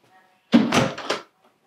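A French door in a house, leading out to a pool and hot tub area, is opened or shut with a brief rattling thud and a short scrape, heard close by in a quiet room.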